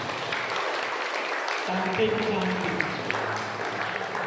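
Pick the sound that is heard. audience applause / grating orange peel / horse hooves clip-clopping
audience applause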